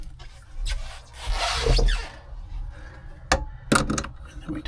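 A nut and washer are tightened on threaded all-thread rod for a spare tire bed mount on a 2025 Honda Ridgeline, heard as close metallic rubbing and rasping turns in short bursts with pauses between them.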